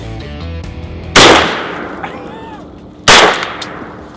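Two loud, close shotgun blasts ring out about two seconds apart during a Louisiana mallard duck hunt in shallow water, each crack trailing into a long echoing decay, with soft voices and calls between.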